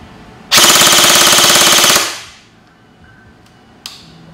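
A G&G MARS airsoft gun fires a rapid, continuous full-auto burst for about a second and a half, crisp and close, followed by a single faint click.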